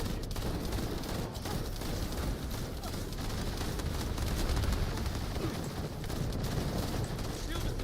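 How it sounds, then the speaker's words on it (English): Python gun in The First Descendant firing rapidly at a high rate, a dense, unbroken roar of shots that stays loud and steady throughout with no pauses. "I just use my Python with the high fire rate."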